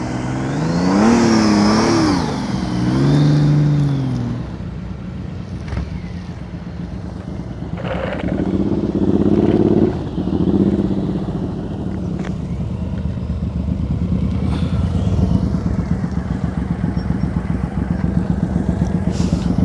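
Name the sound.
motorcycle riding at slow speed with throttle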